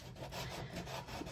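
Brisk back-and-forth sanding scrapes a hardened resin wall piece in quick, even strokes, close and rasping, with no voices.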